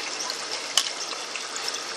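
Water pours into a bell siphon fitted into a pipe, a steady close splashing rush with one brief louder splash partway through.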